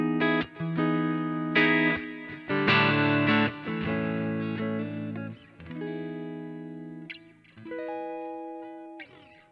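Clean electric guitar notes and chords ring out with long echoing delay and spacious reverb, each phrase trailing off slowly.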